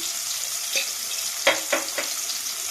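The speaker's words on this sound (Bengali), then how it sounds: "নুন দিয়ে এটা হালকা করে নাড়িয়ে নিলাম" Snakehead fish cooking in a pan with chopped tomato and salt: a bright, steady sizzle with three or four sharp scraping strokes of the spoon as it is gently stirred.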